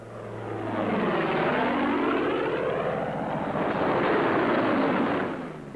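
P-47 Thunderbolt fighter planes fly in low to land, their propeller engines roaring loud and close for several seconds with a rising and falling drone as they pass overhead.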